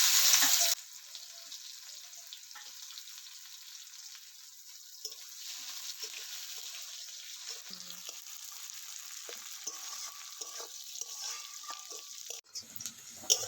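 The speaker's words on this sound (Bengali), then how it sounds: "এবার এর মধ্যে আমি এক কুচো করে রাখা পেঁয়াজগুলো দিয়ে দিচ্ছি" Chopped onions hit hot oil already holding fried whole cumin, giving a brief loud burst and then a steady, fairly soft sizzle of frying, with light stirring noises and no speech.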